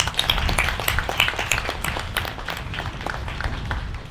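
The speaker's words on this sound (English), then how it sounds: "If we can give them a round of applause" Audience applause at a groundbreaking ceremony, honoring the Janes Corporation, with a dense, steady wash of many hands clapping throughout, moderately loud and sustained.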